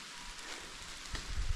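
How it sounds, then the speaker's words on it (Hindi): Rain beginning to fall in a forested hill area where herders graze animals, a steady soft hiss of drops on leaves and ground, faint and close, with light rustling near the end. "देखो भाई बारिश आनी शुरू हो गई।"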